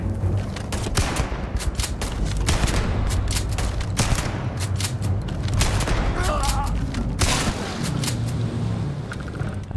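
Rapid bursts of gunfire from a gun in the sci-fi video game Starfield ring out loud and close, with repeated volleys and booming shots across the whole stretch, layered over in-game effects and some voice activity.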